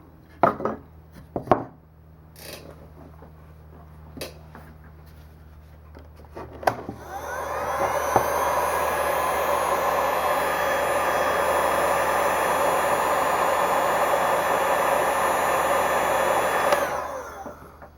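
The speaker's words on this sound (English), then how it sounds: "So I'm gonna hit it with the heat gun again, dry it up a little bit" A heat gun blows steadily for about nine seconds, drying freshly glued bushing felt on piano keys; it starts after a few light clicks and handling knocks and then holds a loud, even whooshing roar before cutting off.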